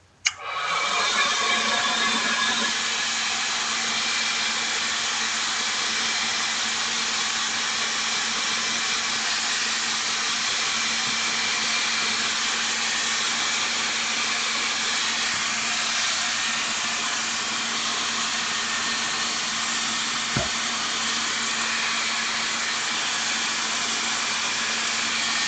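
A drying tool blows on gesso on a mixed media box, switching on at the start and then holding a steady, loud whirring hum without a break.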